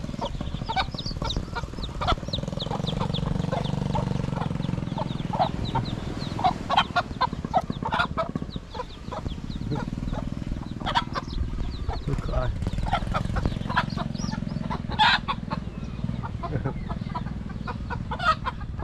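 Chickens clucking and a rooster crowing at a market in Sumatra, Indonesia, repeated close calls over a steady crowd murmur, with people talking nearby.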